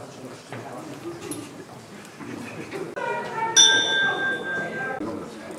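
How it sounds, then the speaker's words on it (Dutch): The bell of the steam fire pump Cerberus rings out clearly over a murmuring crowd at the National Fire Brigade Museum in Hellevoetsluis, its bright tone lingering and fading for a couple of seconds. "door het luiden van de bel van de stoomspuit Cerberus het nieuwe museumjaar te openen"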